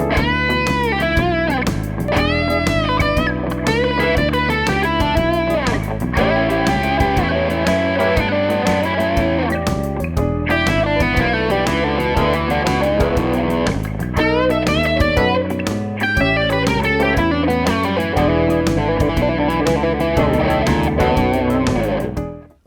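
Distorted electric guitar playing a blues solo over a 12-bar backing track, dense and loud with bent notes and quick runs throughout, ending abruptly.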